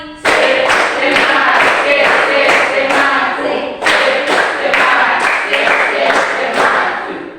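A group in a classroom session claps the rhythmic Indonesian 'tepuk semangat' spirit clap, sharp repeated hand claps in a patterned beat, loud and close, with a brief pause before the pattern starts again.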